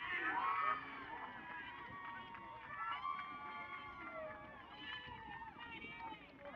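Fans cheer and shout at a boys' high school soccer match between Seymour and Woodland. The mix of crowd voices sounds somewhat distant, with a louder swell at the start, while a commentator talks over it.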